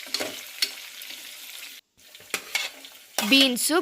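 Chillies and capsicum stirred in a frying pan: sporadic scraping strokes and light sizzle, a brief pause, then brighter clattering scrapes near the end, close and clear with no talk.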